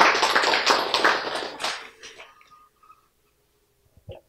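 A church congregation claps together in a dense, loud burst that lasts under two seconds, then thins to scattered claps and stops, followed by near silence and one short knock at the end.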